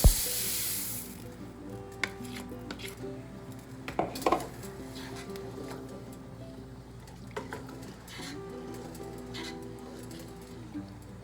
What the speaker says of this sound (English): So I'm going to put in the rice and then my salt to taste.